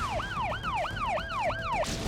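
Siren wailing in Islamabad, a rapid repeating up-and-down electronic yelp cycling about six times in two seconds, loud and close over faint background noise.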